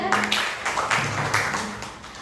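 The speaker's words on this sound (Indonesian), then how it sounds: "silakan tepuk tangan dulu untuk Lida" Students in a high school classroom give a brief round of scattered clapping for a classmate, moderately loud and fading after a couple of seconds.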